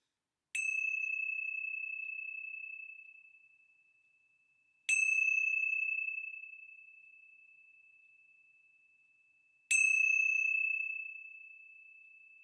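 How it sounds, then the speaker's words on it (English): Three struck bells ring out, evenly spaced about four seconds apart, each a clear bright tone with a sharp strike that hangs and slowly decays into silence. "let's begin our time together with the ringing of the bells"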